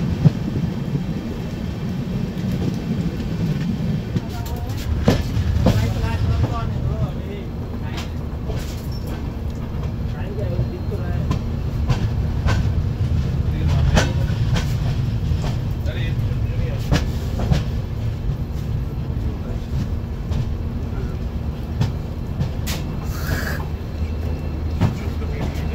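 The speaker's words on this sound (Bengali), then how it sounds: "ট্রেন রয়েছে এখন নিউ জলপাইগুড়ির কাছাকাছি।" Inside the Mizoram Rajdhani Express running near New Jalpaiguri on a rainy morning, a steady low rumble of the moving train fills the cabin, with intermittent clanks and rattles throughout.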